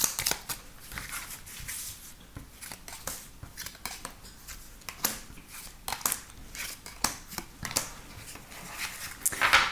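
Playing cards shuffled by hand for a French cartomancy reading, a steady run of soft riffling and flicking bursts that grows louder toward the end, close and with no talking.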